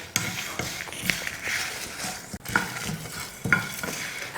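Chickpeas dry-roasting in a pan for a chickpea kuzhambu, stirred with a spoon, giving a soft steady sizzle with repeated scraping and light taps against the pan, heard close with no talking.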